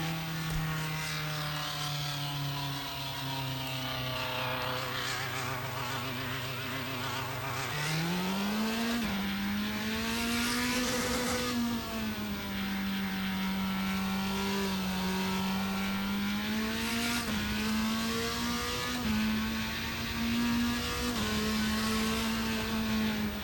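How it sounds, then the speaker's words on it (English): An F3 race car engine in the Automobilista 2 racing game, at the Donington circuit, is heard from outside, a loud, steady high-pitched drone that climbs through gear changes and holds at high revs. "Okay, so an F3 car. Let's see what this sounds like from the outside."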